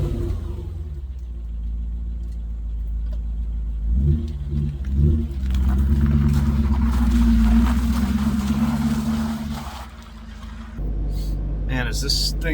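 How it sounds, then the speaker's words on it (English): A 5.0L V8 E39 BMW M5 with a 6-speed, in need of work, drives along a road, its engine rumbling low and steady and swelling as it accelerates in the middle, with a voice speaking near the end. "let's take it out on the road, get it up to temperature, and see what it's like to drive an E39"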